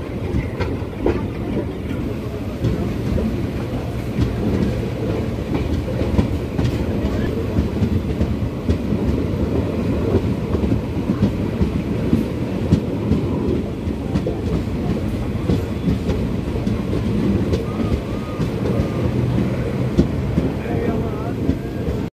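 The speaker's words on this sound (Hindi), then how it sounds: "तो चल चुके हैं दोस्तों 2 मिनट के स्टॉप के बाद हमारी ट्रेन।" A Suratgarh–Sri Ganganagar passenger train rolls on after a short station stop, its steady loud rumble and rhythmic clickety-clack of wheels on rail joints filling the whole stretch from inside the carriage.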